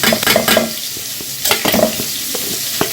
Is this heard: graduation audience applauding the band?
no